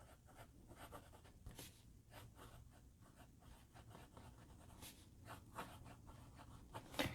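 The nib of a Moonman S1 fountain pen moves across paper in faint, close, scratchy strokes, with small taps and scrapes at an uneven rhythm.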